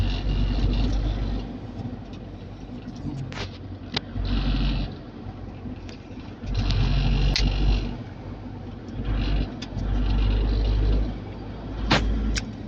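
Car driving along an expressway in Camarines Norte, Bicol, with a steady engine and road rumble, close and continuous, swelling and easing in waves over the drive.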